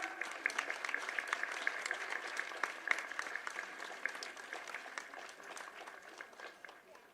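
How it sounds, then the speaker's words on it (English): Steady applause from a crowd at a Foundation Day prize-giving, many hands clapping continuously for several seconds, moderately loud and slowly tapering toward the end. "Please clap."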